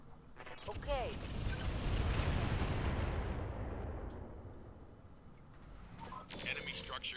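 Mech weapons firing in Roguetech, a swelling roar of several volleys that builds and fades over a few seconds, with voice chatter at the start and end.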